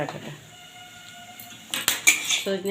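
A spatula scrapes and clatters against a cooking pan as moringa drumstick pieces are stirred with softened tomato. The stirring comes as a quick burst of sharp metallic knocks after a quieter stretch.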